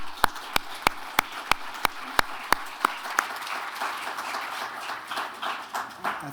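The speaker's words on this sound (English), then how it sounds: "Give you a round of applause" At an eye care conference, a small audience applauds a speaker: at first a few crisp, evenly spaced claps stand out, then they soften into a looser, scattered patter of clapping.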